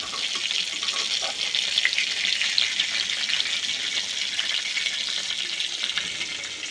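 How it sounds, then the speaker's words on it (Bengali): Pieces of rohu fish fry in hot oil in a wok, giving a loud, close, unbroken sizzle and crackle with no voices. "দেখেন আমার মাছগুলি ভাজা হয়ে গিয়েছে।"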